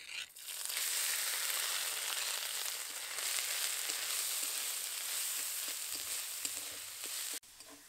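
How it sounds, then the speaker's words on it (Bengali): Ground shrimp and coconut paste lands in hot mustard oil and fries with a loud, steady, close hiss and sizzle, joined by light stirring scrapes, then cuts off abruptly near the end. "বেটে নেওয়া চিংড়ি আর নারকেল এটা দিয়ে দেব।"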